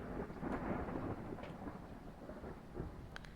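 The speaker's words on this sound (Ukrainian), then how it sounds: "Ого, у нас гроза прямо." Thunderstorm in the horror game Phasmophobia: a steady broadband wash of rain with low rumbling thunder swells, loud and continuous, with no talking.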